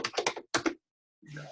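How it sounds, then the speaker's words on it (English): Quick bursts of keystrokes on a computer keyboard, two clustered flurries of clicking followed by a pause, then a softer muffled sound, close and fairly loud. "She's typing away pretty viciously."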